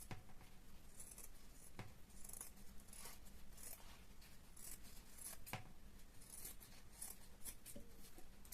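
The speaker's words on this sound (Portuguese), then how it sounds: "Agora eu vou recortar, deixando aqui um meio centímetro em volta." Scissors snipping fabric around a sewn seam while making a cloth eyeglasses case, quiet, irregular crisp snips spread across a hushed indoor background.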